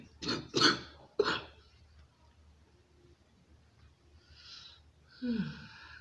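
Throat clearing and coughing from a person, a few harsh close bursts early on, then quieter breathy noises and a short vocal sound near the end.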